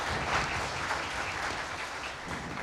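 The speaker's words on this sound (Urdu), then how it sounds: "پروفیسر عبدالرؤف صاحب آپ کی بھرپور تالیوں میں اپنی نشست پر براجمان ہیں." Audience applause at a speech contest event in Faisalabad, a steady wash of many hands clapping continuously throughout at moderate, somewhat distant level, with no voices over it.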